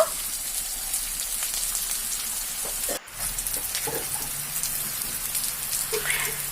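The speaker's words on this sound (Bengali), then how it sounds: "পেঁয়াজ দিয়ে দিয়েছি পেঁয়াজটাও ভালো করে এটা ভেজে নেব" Onions frying in a pan make a steady crackling sizzle with scattered pops, fairly quiet and even, broken by a brief dropout, with no talking.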